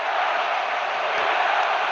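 A full stadium crowd in the eFootball PES football game gives off a constant, dense roar of massed voices at a steady level throughout.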